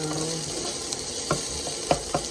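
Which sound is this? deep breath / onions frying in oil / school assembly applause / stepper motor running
onions frying in oil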